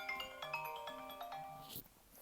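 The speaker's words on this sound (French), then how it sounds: "ça c'est mon téléphone qui sonne" A mobile phone ringtone plays faintly in a quiet room, a short melodic run of repeated bright tones that cuts off after about two seconds.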